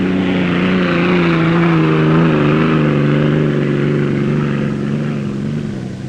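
The unlimited hydroplane race boat Miss Thriftway, winner of the 1963 Diamond Cup, passes with a loud, continuous engine roar whose pitch wavers slightly before it begins to fade.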